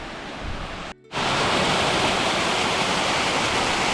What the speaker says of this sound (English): We heard this waterfall from the Rifugio far below, and now we get to see it for the first time